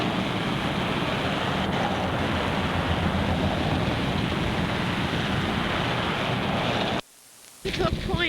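Strong wind buffeting the microphone with surf rolling on the beach at Montauk Point, a dense continuous roar that drops out abruptly for a moment near the end before resuming.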